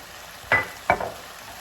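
Marinara sauce stirred in a frying pan for shakshuka, two short scraping, squelching strokes over a low background hiss.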